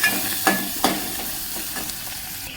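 Khichdi rice sizzles in a hot spiced tempering while a spoon scrapes and stirs it, giving a few distinct clinks over a steady close frying hiss.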